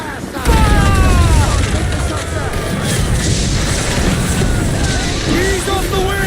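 Broadside cannons on a sailing warship in Assassin's Creed Black Flag boom out in a heavy burst, followed by rumbling ship noise and crew voices shouting orders over the din.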